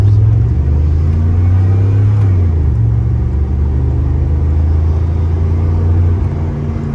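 A 1991 Chevrolet C1500 stepside pickup with a 5.7 V8 drones steadily while driving at speed, a deep continuous engine rumble with a brief shift in pitch partway through, loud and close from inside the cab.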